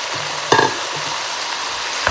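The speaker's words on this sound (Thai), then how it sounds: "แล้วก็คั่วไปอีกหอมมากค่ะหอม" Mushrooms, pork belly and lemongrass stir-fry dry in a pan with a constant close sizzle, broken by a couple of sharp clinks of the stirring utensil.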